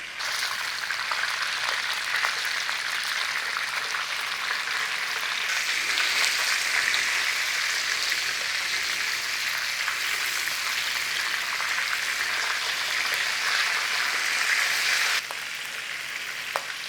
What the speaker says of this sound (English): Nice and gentle, cook your sausages.